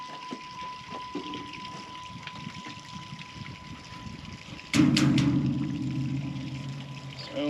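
Diesel pours into a fuel tank at a ranch fill-up for a small rake tractor. A steady gurgling, rushing flow starts abruptly partway through and continues loud and close, with faint clanks before it.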